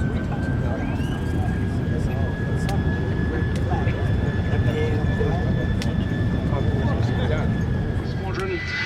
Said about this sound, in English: The sound you can hear is the absolutely marvellous whistle of the de Havilland Goblin turbojet engine